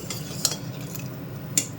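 A metal ladle scoops cooked, tempered mango dal into a serving bowl, giving two sharp light clinks against the vessel over a soft steady background.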